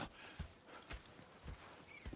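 Horses clip-clopping in the Red Dead Redemption 2 video game: hooves strike in a steady walking rhythm, about four heavy low thuds across two seconds over a faint outdoor ambience.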